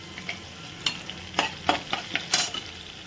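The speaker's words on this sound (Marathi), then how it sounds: "कढीपत्ता छान तडतडला की लसूण छान परतून द्यायचा" Curry leaves crackle and spit in hot oil in a kadhai during tempering, a run of sharp sizzling bursts and pops that come close and fairly loud over a soft frying hiss.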